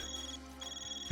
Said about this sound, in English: Oh wait, your phone's ringing, Van.